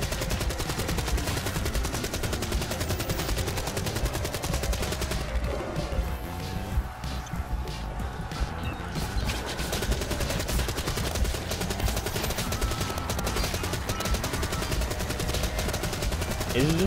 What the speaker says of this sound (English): Is it just me or is the gun firing so fast that that the sound is just going away?